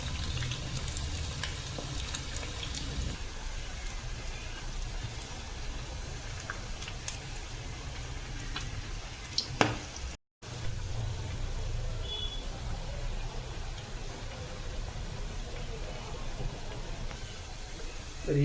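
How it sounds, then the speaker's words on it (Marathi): Egg bhaji (anda pakora) deep-frying in hot oil, a steady, soft sizzling crackle that continues throughout with brief faint clinks and a momentary break partway through. "मस्तपैकी लाल होईपर्यंत भाजून घेऊया."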